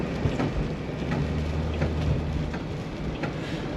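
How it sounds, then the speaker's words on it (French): Hail or snow pelts the body of a parked 1966 Ford Mustang V8, a dense steady patter of tiny impacts with a low rumbling wash underneath, continuous and close. "Il neige, il grêle, on ne sait pas trop, mais l'un ou l'autre."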